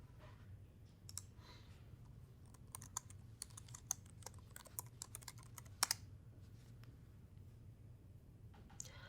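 Computer keyboard keys clicked in irregular bursts of close, crisp taps while a Linux command is entered, over a faint steady room hum with no talking.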